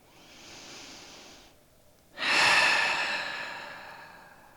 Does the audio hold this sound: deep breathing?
yes